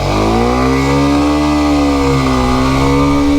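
A loud motorcycle engine roars close by, revving hard and steady with a rising, then dipping tone as it accelerates, no voices.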